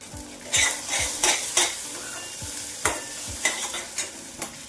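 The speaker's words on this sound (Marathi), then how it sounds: "छान असं तेल सुटलं पाहिजे साइडनी, अशा पद्धतीमध्ये आपण इथं वाटण भाजून घेऊया।" Nashik-style black masala paste is stirred and roasted in oil in a pan for a cauliflower curry, with a constant soft sizzle and a series of distinct scraping spoon strokes at irregular intervals, close up.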